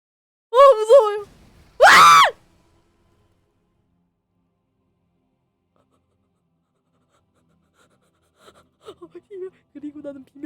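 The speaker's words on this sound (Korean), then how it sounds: "그리고 나는 비명을 질렀다." A short sharp scream rings out in a horror video game, preceded by a brief panicked cry, then long silence before faint murmured speech returns.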